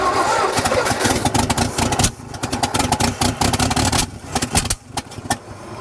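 An engine cranks and catches, then runs unevenly with stumbling misfires, loud and close, its rough rhythm breaking up and sputtering over several seconds.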